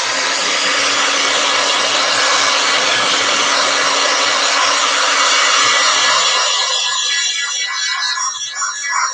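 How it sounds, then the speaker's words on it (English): A heat gun blows hot air steadily over wet Dixie Belle paint on a flea-market piece, a loud, continuous broadband whoosh that stays even throughout and thins slightly near the end, with no talking. "I'm going to go ahead and hit that with a heat gun a second"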